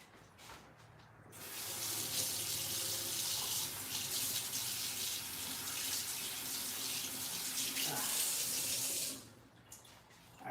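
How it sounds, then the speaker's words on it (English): Tap water runs steadily into a sink to wash off a decorated flag cookie, a close continuous splashing rush lasting several seconds before cutting off. "Now, we wash it off again."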